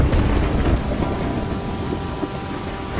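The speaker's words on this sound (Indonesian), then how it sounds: "Kagak, ini mah geluduk doang." Loud thunder rumbles low and heavy as a storm rolls in before rain, blending with a dense wash of falling rain and some wind, continuous and close, with no speech.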